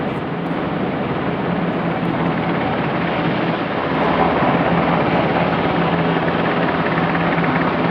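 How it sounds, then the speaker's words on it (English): A helicopter drones loudly and continuously, its dense rotor and engine roar steady throughout, swelling slightly halfway, with no voices. "I think the helicopter is about to move away now."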